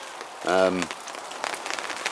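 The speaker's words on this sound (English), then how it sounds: "It started lashing it down with rain" Heavy rain lashing down outdoors, a steady hiss of drops on surfaces throughout, with a brief voice sounding early on.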